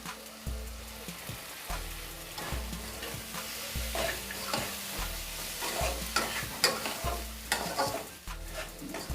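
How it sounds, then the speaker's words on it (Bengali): Chana dal with sugar and salt being stirred in a pan, a soft sizzle under a regular rhythm of scraping strokes and low thuds, close and fairly quiet, no talking. "ভালো করে মিশিয়ে নিলাম"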